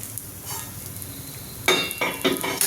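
Gram flour pudla cooking in a pan with a little oil: a soft, quiet sizzle at first, then a few sharper bursts of frying and scraping near the end, close by, with no talking.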